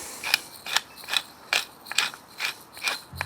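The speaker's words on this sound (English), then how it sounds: "And a good grinding of pepper." A hand pepper mill grinds black pepper in seven evenly spaced ratcheting bursts, each a dry crunching twist, close and clear with no talk, while a barbecue dish is prepared.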